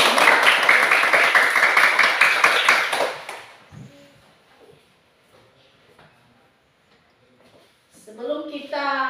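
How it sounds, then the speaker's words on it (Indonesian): A class of schoolchildren claps in unison for about three seconds, a loud, dense, rhythmic burst that stops abruptly, followed by near quiet and then a voice. "Tepuk tangan dulu"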